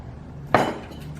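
Ice cubes dropped into a glass of iced coffee with milk give one sharp, close clink around the middle, with a little rattle and ringing trailing after it against a quiet room.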